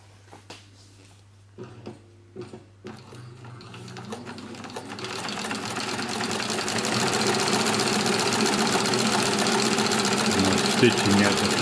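A Cowboy CB 6900 heavy-duty sewing machine stitching a thick strap: a few slow separate thumps, then a rising, steady mechanical chatter as it picks up to a faster speed, loud and close.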